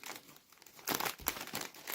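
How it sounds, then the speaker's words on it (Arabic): A crinkly snack bag of cheese-flavoured chips is pulled and torn open up close, giving a couple of seconds of dense plastic crackling and rustling. "نفتح بقى رابع كيس"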